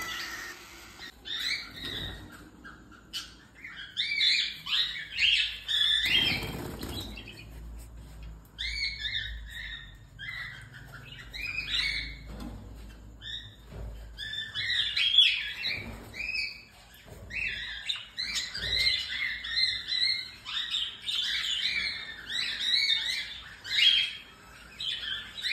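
Hand-fed pet birds bred for color mutations chirp and squawk in repeated bursts of high, shrill calls, fairly close, with soft handling noises and thumps between the calls.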